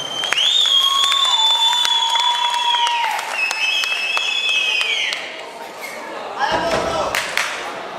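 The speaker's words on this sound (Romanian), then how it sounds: "Să-i aplaudăm!" Sustained applause from the audience at a high-school freshmen ball in Aiud, Romania, following a Romanian folk dance, loud and steady throughout, with bright ringing tones layered over the clapping.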